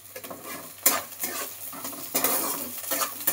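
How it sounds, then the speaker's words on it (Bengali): A spatula stirs onions and green chillies in a pan, with irregular scraping and clinking strokes over a soft sizzle, close and moderately quiet. "এবার পেঁয়াজটা দিয়ে একটু নেড়ে নিচ্ছি।"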